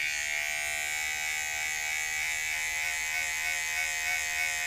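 Electric hair clippers with a #1 guard and the lever open cut hair for a shadow fade, a close, steady, high-pitched buzz that runs without a break and with no talking.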